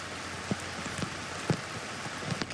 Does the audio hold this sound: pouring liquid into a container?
no